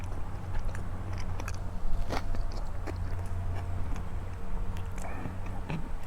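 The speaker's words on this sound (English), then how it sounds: "it's crunchy for a peanut butter sandwich" Close, wet chewing of a crunchy peanut butter and onion sandwich, with irregular crunches and bites repeating steadily over a low background hum, no talking.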